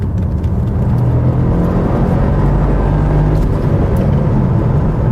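Mercedes SL 63 AMG 4MATIC+ roadster accelerating hard, its engine building into a loud, continuous turbine-like roar with steady road noise, close and sustained throughout without speech.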